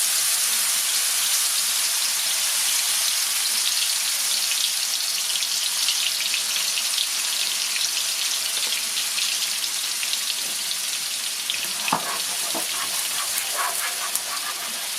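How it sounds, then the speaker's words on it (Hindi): Garlic paste frying in hot oil for a fish curry, a dense, steady sizzle and hiss with occasional crackles and pops near the end, with no talk over it. "अब इस ऑयल में हम शामिल करेंगे लहसुन का पेस्ट।"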